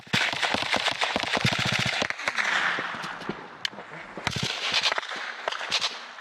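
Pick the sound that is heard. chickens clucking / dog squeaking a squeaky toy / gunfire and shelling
gunfire and shelling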